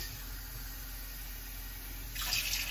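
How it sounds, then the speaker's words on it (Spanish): Water pouring into a pot of rice for rice pudding, a steady broadband rush that swells louder near the end, heard alone without talk. "Vamos a ponerle bastante agua porque necesita bastante agua."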